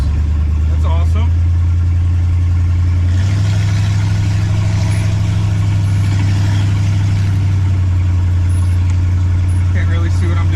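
A rough, rumbling old car engine drones steadily at close range, tractor-like, shifting pitch as it drives, with faint squeaks and clunks on top.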